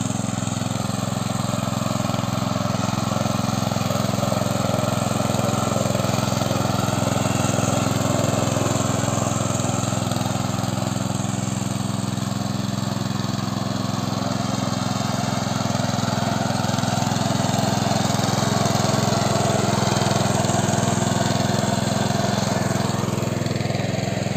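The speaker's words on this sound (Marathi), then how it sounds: "बघा पप्पा ट्रॅक्टर चालवतात पहिल्यांदाच।" A tractor's engine drones steadily and loudly throughout during field sowing in a village, a constant low mechanical rumble with no pauses or voices.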